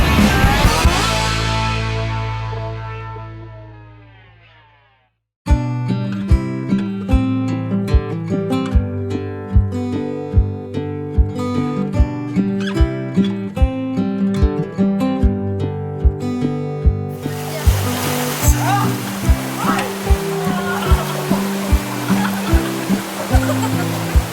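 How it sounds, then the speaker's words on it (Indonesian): Music plays for most of the stretch, first a fading chord and then a plucked, rhythmic melody. It then gives way to a loud, steady broadband rush of the Coban Pelangi waterfall for the final several seconds. "Dan itu adalah air terjunnya guys."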